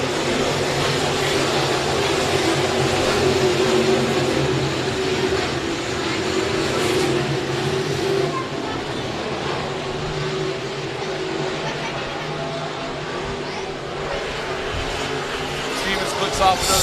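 Modified race cars roar around the oval at Crawford County Speedway, a steady, loud engine drone from the pack that persists throughout under continuous announcer commentary.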